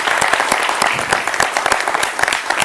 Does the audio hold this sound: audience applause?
yes